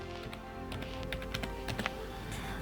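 Typing on a computer keyboard on a Windows PC, a rapid run of light plastic key taps at close range, fairly quiet and steady with no talk.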